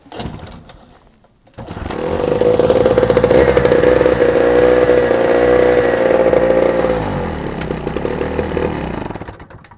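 Portable generator engine catches after a short cranking pull and then runs steadily at a loud, buzzing idle, close by, with no talk.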